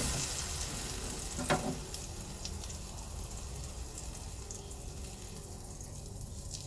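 A fluffy omelette cooks in a pan with a soft, steady sizzle and a brief clatter early on, fairly quiet and close, with no voices.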